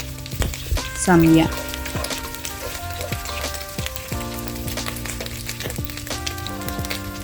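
Garlic sautéing and being stirred in a pan for Bicol Express, a continuous sizzle with spoon knocks and scrapes, a brief voice heard over it.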